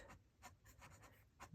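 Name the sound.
fountain pen nib writing on paper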